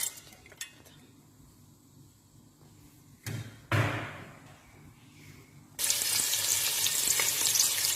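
Spices such as cardamom, cloves and pepper hitting hot oil on a gas stove: quiet moments and a few clattering knocks, then a sudden loud, continuous sizzle that holds steady.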